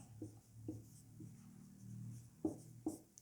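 Chalk or marker writes on a board during a Class 8 maths lesson on linear equations in one variable, with quiet strokes, short scrapes, and a couple of sharper taps near the end.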